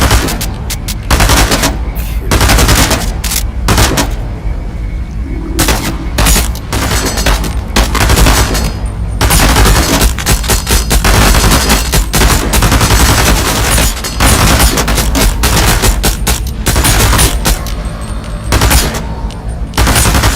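Video game gunfire aimed at an enemy, long loud bursts of rapid automatic shots with brief gaps between volleys, close and dominant throughout, with occasional heavier booms mixed in.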